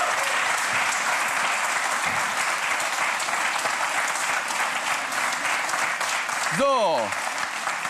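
A TV studio audience on the ZDF cooking quiz show Topfgeldjäger applauds a departing contestant with steady, dense clapping throughout. A brief voice rises near the end.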